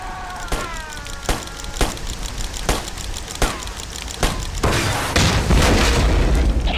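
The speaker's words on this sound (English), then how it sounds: "Tank destroyed." Tanks blow up in the 2001 video game Tom Clancy's Ghost Recon, a loud string of sharp booms at regular intervals followed by a denser, roaring crackle of blasts and debris.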